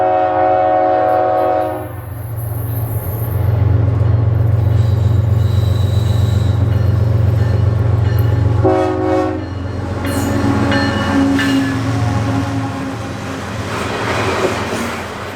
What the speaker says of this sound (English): This train had yet another friendly engineer with a horn salute as they came around the bend.